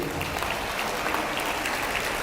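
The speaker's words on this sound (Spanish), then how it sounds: "Dale un aplauso si usted está alegre." Church congregation applauding during a Spanish-language sermon, dense sustained clapping from many hands filling the room at a steady level.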